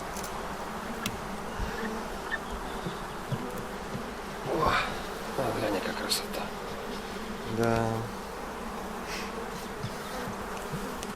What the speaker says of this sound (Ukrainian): Бджолина сім'я це неймовірний організм, де кожна бджола виконує свою важливу роль.